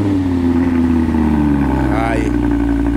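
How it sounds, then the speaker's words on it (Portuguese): An Audi R8 idles on its first cold start of the day, a loud deep exhaust drone holding steady close by, with someone talking excitedly over it. "Primeira partida do dia dele, hein? O motor tá bem frio. Olha o escapão do negócio"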